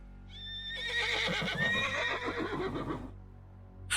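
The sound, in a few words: horses neighing in the distance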